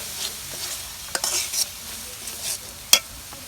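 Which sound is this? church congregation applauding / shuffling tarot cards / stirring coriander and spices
stirring coriander and spices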